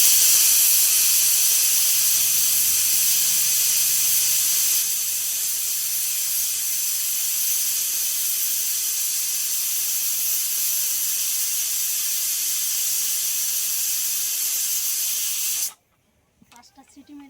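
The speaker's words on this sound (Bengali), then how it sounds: "পাঁচটা সিটি মেরে নিলাম" A pressure cooker cooking mutton soup lets out steam in a loud, steady hiss that runs for about sixteen seconds and then cuts off abruptly.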